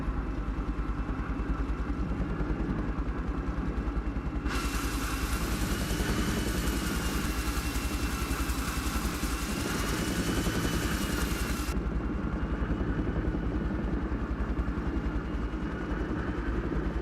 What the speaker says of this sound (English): Currently I have a mod installed that makes it longer to start the helicopter, plus it gives it a different sound